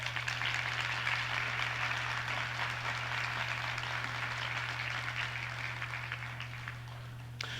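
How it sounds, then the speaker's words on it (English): An audience at a motivational talk gives a sustained round of applause, a dense, even wash of clapping that fades slightly near the end, with a low electrical hum beneath. "Give them a round of applause again"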